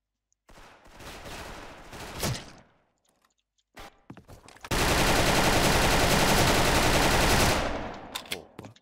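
Automatic gunfire in the online shooter Special Force: a rattling burst of shots, then a few scattered thuds, then a long, loud continuous spray of fire lasting about three seconds.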